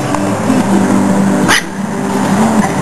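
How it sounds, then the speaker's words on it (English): Two dogs, a small one and a big one, scuffling at close range, with a sustained growling, whining rumble and a brief sharp yelp partway through. "I have my two dogs fighting."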